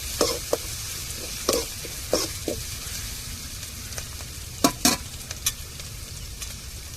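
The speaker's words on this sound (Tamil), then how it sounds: "நல்லா இஞ்சி பூண்டு நல்லா பச்சை வாடை மாறத்தட்டிக்கும் வாசம் போகிறதுக்கும் நல்லா வதக்கிட்டுக்கிடுவோம்" Ginger and garlic sautéing in a hot pan on a home stove, a steady low sizzle broken by sharp scraping clicks of a spoon stirring at irregular intervals, close and clear with no talking.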